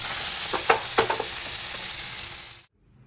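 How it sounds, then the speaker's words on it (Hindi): Pieces of grass carp sizzle and spit in a frying pan, a loud broadband hiss with a few sharper crackles, then it stops abruptly near the end. "मेरा मछली फ्राई करना हो गया"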